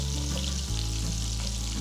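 Chopped garlic frying in butter and oil in a pan makes a loud, dense, continuous sizzle, close and without any talk.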